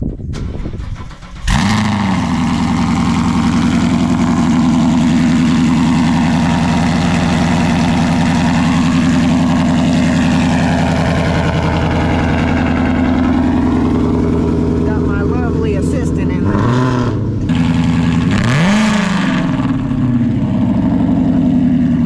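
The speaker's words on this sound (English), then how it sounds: "Gotta get you guys that cold start." A 2015 Mustang cold-starts with a sharp crank and catch, then settles into a loud, steady, rumbling high idle close by, with a couple of brief revs near the end.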